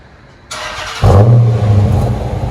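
A Dodge Challenger R/T with a 5.7L HEMI and Flowmaster FX exhaust pulls away, a sudden loud burst of throaty engine roar that swells and holds close by.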